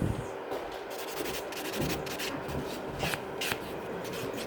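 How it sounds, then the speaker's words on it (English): Fingernails being buffed around the cuticle area during a gel infill manicure, a close, steady dry rubbing with soft repeated strokes and a few brighter scratchy passes, no talking. "And buffing around the cuticle area."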